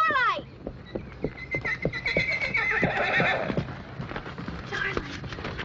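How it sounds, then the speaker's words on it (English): A horse neighs loudly up close, a long descending whinny at the start followed by snorts, shorter whinnies and scattered hoof clops, with a voice heard briefly over the animal. "Is that your horse?"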